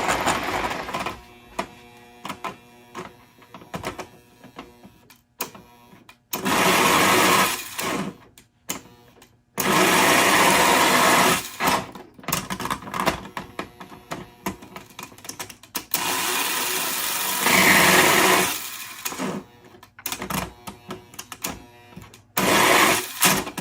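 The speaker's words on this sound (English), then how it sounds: "I think I'm having a motor brush issue here." An electric motor in a childhood Lionel Scout set toy train locomotive, suspected of worn brushes, runs in fits and starts, a whirring buzz that surges loudly in several bursts and then drops away with quieter clicks and rattles between them.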